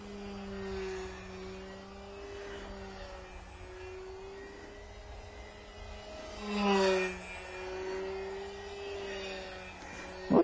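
Steady whine of a small model fighter plane's motor running at half throttle for takeoff, a constant buzzing drone with a swell in the middle, moderately distant and without speech.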